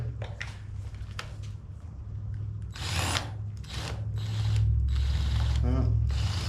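A Phillips head screw is worked out of a car tire on a 1979 Corvette, heard as close mechanical ratcheting clicks and short whirring bursts against a low background hum.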